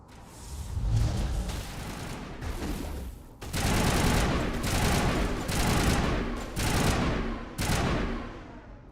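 Rapid gunfire rattles in Mass Effect Legendary Edition, loud sustained automatic bursts broken by short pauses, with a brief lull before heavier volleys resume.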